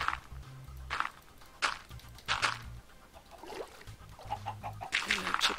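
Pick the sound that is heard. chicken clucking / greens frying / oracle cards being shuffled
chicken clucking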